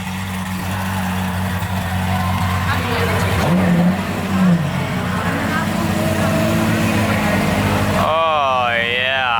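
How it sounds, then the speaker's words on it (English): Powerful V12 hypercars at a Circuit of the Americas charity show crank to life and rumble loudly nearby, a dense engine roar lasting throughout with people talking over it, ending in a rising, whining rev as one pulls away. "We got the startup of these incredible V12s."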